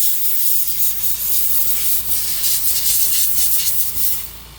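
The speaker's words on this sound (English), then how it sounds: "Sorry about that, the compressor came on." An air compressor kicks on and runs steadily beside a mini sand blaster stripping paint from die-cast toy cars, giving a loud continuous hiss with a low hum that holds for several seconds before easing off.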